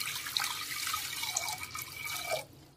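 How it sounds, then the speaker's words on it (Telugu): Water poured into a vessel set on a stove for boiling gooseberries, a fairly faint continuous trickling and splashing that runs steadily for over two seconds, then stops abruptly, with no voices. "కొంచెం నీళ్లు పోసుకుందామండి"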